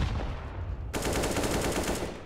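Rapid automatic AK-47 gunfire in a Counter-Strike: Global Offensive firefight at a DreamHack Dallas match, bursting in loud and dense after a brief quieter stretch and continuing in steady rattling volleys.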